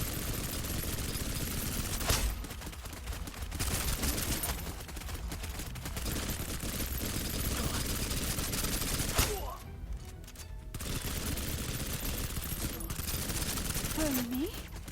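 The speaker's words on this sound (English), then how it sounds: "I'm taking fire." Enemy gunfire in the shooter video game SnowBreak: Containment Zone, with dense continuous bursts of automatic fire rattling through most of the stretch, briefly cutting out twice, loud and close amid other game sounds.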